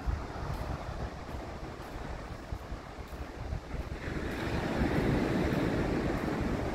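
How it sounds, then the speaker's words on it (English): Ocean waves washing onto a beach with a steady broadband surf roar and wind buffeting the microphone, growing louder toward the end, with no voices. "Sounds of the beach."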